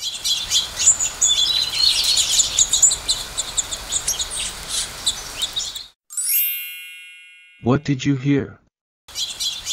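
Swallows sing in a dense, continuous chorus of chirps and twitters for about six seconds. A bright chime and a spoken question follow.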